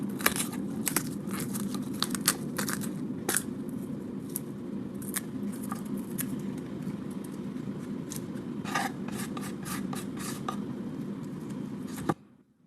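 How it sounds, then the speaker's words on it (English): Papery onion skin peeled off a halved onion on a cutting board, with crisp, irregular crackles and tearing snaps close up, steady over a quiet kitchen background. "Peel off the skin."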